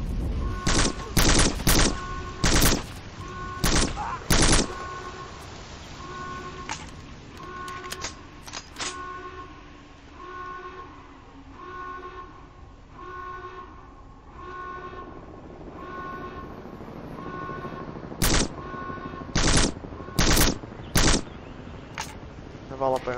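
Bursts of rapid automatic gunfire in the video game Black crack loudly at the start and again near the end, with a steady mechanical hum and faint tones in between.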